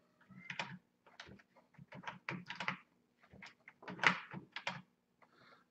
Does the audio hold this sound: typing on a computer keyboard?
yes